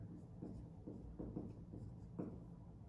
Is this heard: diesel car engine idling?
no